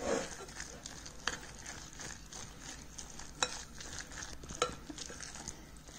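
A pot of raw mango dal gets a quick stir, with soft spoon scrapes and a few light clinks against the pot over a faint low sizzle, fairly quiet.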